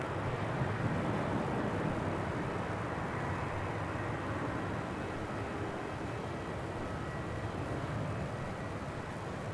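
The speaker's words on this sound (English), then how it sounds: "Take off 34, Qantas 432." Distant jet roar from a Qantas airliner departing Melbourne Airport on runway 34 for Sydney, a soft, steady broadband rumble that barely swells, with no voices over it.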